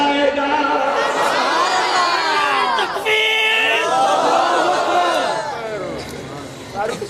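A large crowd at a religious political gathering roars a chanted slogan in unison, loud and sustained, with massed voices rising and falling in waves for several seconds.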